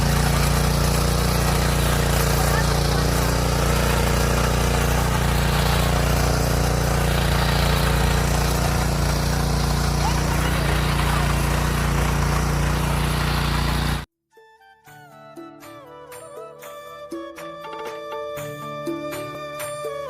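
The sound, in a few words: power tiller tractor engine running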